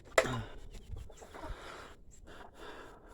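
A rooster lets out a sharp squawk followed by soft, scattered clucks and snorting breaths, faint and close by.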